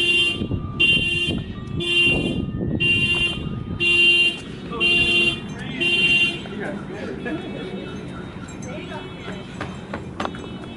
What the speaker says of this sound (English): How many car alarms?